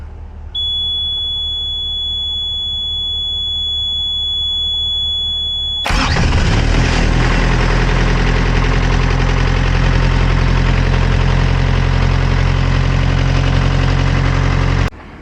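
A reefer unit's diesel engine on a refrigerated trailer cranks and starts after a starter replacement, then settles into a loud, steady idle close by. A high, thin electronic squeal sounds beforehand, and no one speaks.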